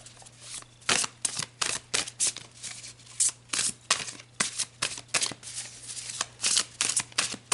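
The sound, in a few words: tarot cards being shuffled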